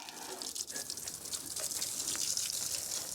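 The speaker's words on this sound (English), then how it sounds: "let's go ahead and hose our motor off" Steady rushing spray of water from a hose onto a Mercedes OM617 diesel engine, a continuous broadband hiss that holds at an even, fairly strong level throughout.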